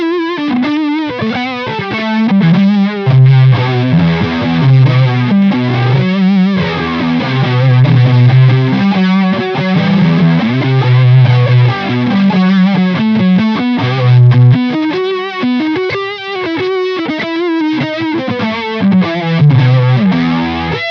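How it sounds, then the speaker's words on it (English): Heavily distorted electric guitar through a fuzz pedal into a swirling, sweeping flanger, playing a continuous riff of chords and notes, loud and steady throughout. "We should maybe do the fuzz pedal into the flanger."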